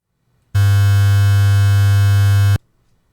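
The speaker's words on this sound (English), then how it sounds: "And lastly is bit crushing." Sine tone run through a bit crushing effect, a harsh, loud, buzzy electronic drone rich in gritty upper harmonics, holding steady for about two seconds with a clean start and stop.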